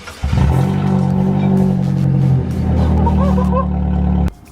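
A Vauxhall Corsa revs through a Cobra Sport aftermarket exhaust, starting up sharply into a loud, raspy drone that dips briefly, climbs again, and then cuts off abruptly near the end.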